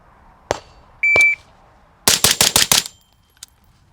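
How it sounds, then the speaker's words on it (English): Gunshots from a carry handle rifle fired at 7 yards on a range: two separate loud cracks, an electronic beep, then a rapid string of five close, sharp shots followed by a faint distant report. "I'm shooting center mass and they're right there"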